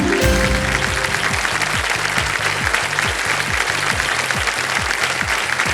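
Loud, sustained applause from a studio audience at the Hindi quiz show Kaun Banega Crorepati, steady dense clapping that fills the whole stretch alongside a rhythmic music beat.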